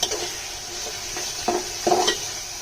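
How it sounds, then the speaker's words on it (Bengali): Beef cooked with ginger, garlic and cumin is stirred in a pan, giving a steady low sizzle with a few soft scraping strokes of the utensil against the pan. "এখন আমি নেড়ে ছেড়ে নিচ্ছি।"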